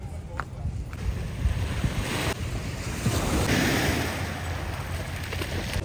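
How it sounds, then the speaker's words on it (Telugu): Ocean waves wash onto a small beach in a steady, rolling surge, with gusts of wind buffeting the microphone throughout. "ఆ బీచ్, ఆ వేవ్స్ అవి కొంచెం కామ్ ఫీల్ ఇస్తాయి"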